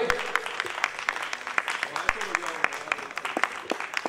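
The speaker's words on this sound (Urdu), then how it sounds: "آپ زوردار تالیوں میں، زوردار تالیاں بجائیں افتخار شکیل صاحب کے لیے۔" An audience at a poetry gathering gives sustained applause, a dense run of sharp claps, some louder and nearer than others, with a voice talking faintly underneath.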